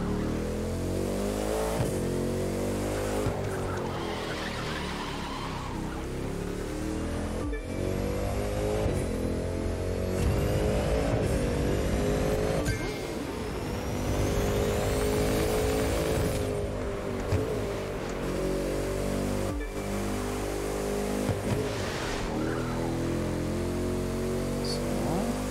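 A Bugatti Centodieci in the racing game The Crew 2 drives through snowy curves, its engine droning steadily with rising and falling revs and gear changes. It plays alone and continuously at moderate loudness.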